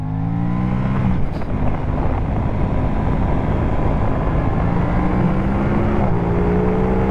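An Aprilia RS 660 motorcycle screams steadily at high revs on a race track, loud and close, with quickshifter gear changes audible as brief breaks in the engine's pitch.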